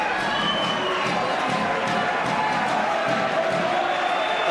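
A large crowd cheers and roars continuously in a big arena after a Commonwealth 160lb title boxing fight, a dense wall of voices with scattered shouts and applause throughout.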